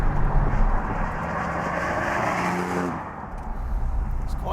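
A 1981 Mark I Volkswagen Golf GTI engine drones steadily while driving, a loud broadband hum with a faint rising tone, easing off slightly near the end.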